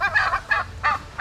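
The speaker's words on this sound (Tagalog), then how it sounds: "Galit na galit si Gansa." An angry goose honks repeatedly on a rainy rural farm, close and loud, with four or five harsh honks in quick, uneven succession and no talking.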